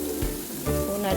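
Beef and other ingredients sauté in a pan with a short, close, steady sizzle and a few stirring scrapes.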